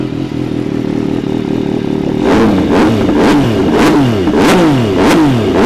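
A 2017 MV Agusta Dragster 800RR three-cylinder sport motorcycle idles up close, then is revved hard in five sharp, evenly spaced blips, each rising and falling quickly, loud and alone.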